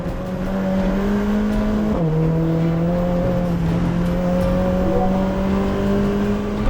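A race car drives hard on track during a race, its engine droning loud and close in a steady, high-revving tone with a brief dip in pitch from a gear change partway through.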